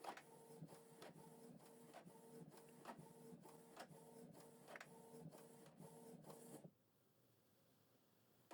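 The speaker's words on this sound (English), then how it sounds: "The document is printing" A Canon PIXMA MG2450 inkjet printer prints a document up close: a quiet, regular mechanical whirr with rhythmic ticks and clicks for about six seconds. Then it stops abruptly, and silence follows.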